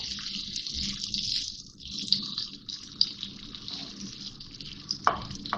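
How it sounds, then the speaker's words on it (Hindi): Chopped onions hit warm oil for a dhaba-style matar paneer and hiss in a steady, close sizzle, with a few sharper pops and clicks along the way. "प्याज डाल रही हूँ। मिक्स करेंगे ऑयल के साथ इसको।"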